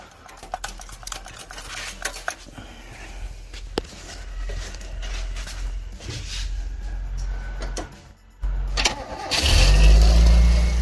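A 1978 Toyota Corolla with an oil leak is cranked and started: irregular clicks and clatter give way to a churning starter, then the engine catches and roars loudly near the end.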